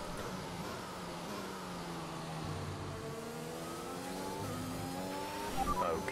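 Formula 1 car in the F1 2021 racing game at Portimao, engine howling steadily with rising and falling gear-shift pitch sweeps, loud and continuous with no voices.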